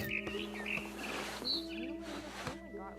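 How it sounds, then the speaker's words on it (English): Barn swallow chirping in the video game What Remains of Edith Finch, several short bright tweets scattered across a few seconds over a steady tonal background. "Then I heard chirping outside my window."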